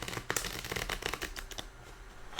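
Tarot cards are shuffled by hand, a quick run of crisp riffling and flicking close by with no other sounds.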